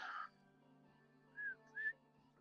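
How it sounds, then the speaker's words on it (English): A person whistles twice to call others upstairs, two short rising notes standing out over a quiet hum and faint background noise. "I'm gonna whistle so everybody comes upstairs."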